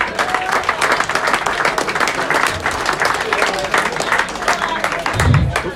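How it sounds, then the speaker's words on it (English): A clubhouse crowd claps steadily for the players after a rugby match against Chinnor, dense sustained applause filling the room with a few voices mixed in beneath. "let's have a big round of applause for all the players"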